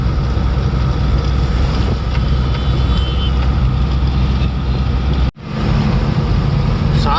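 A car drives an evening highway between Vijayawada and Hyderabad, its loud, steady road and wind roar filling the cabin continuously, with one brief dropout near the end.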